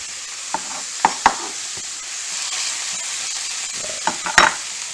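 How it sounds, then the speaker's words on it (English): Peppers sizzle in hot oil in a pan over a high flame, a constant bright hiss broken by a few sharp crackles and stirring clatters. "we're going to put those peppers right down. There's the sizzle."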